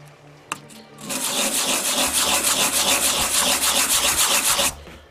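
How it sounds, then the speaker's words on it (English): A sanding block rubs steadily across a surface in quick back-and-forth strokes, close and loud, after a brief knock at the start; no voices. "just start sanding it down until you get a nice even surface"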